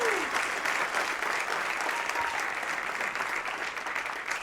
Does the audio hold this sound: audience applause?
yes